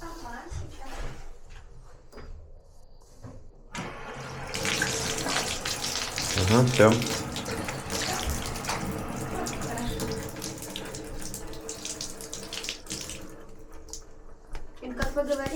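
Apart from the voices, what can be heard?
water running from tap through Bosch gas water heater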